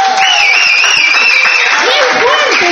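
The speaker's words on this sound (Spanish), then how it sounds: "fuerte ese aplauso." A crowd at a church service applauds and cheers in a dense, steady wash, with an amplified voice carrying over the top.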